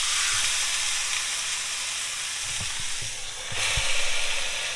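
A ribeye steak searing on a Cinder grill, a steady broad hiss and sizzle running throughout with a few soft pops and knocks, the sizzle swelling slightly near the end; close and continuous, no talk.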